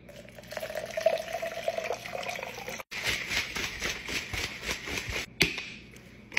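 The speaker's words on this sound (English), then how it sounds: "Cold water." Cold water splashes and trickles into a shaker cup for a pre-workout drink, a steady pouring rush with slight gurgling, close up, briefly interrupted near the middle.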